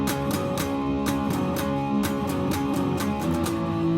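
A distorted electric guitar power chord rings out loudly and sustains, with a few strums and bright attacks along the way.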